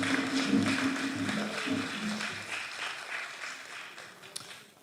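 Audience applause at a Ghana Football Association eTrophy 2025 event, honouring the football association president; a steady round of clapping from a crowd fills the hall, gradually thinning toward the end.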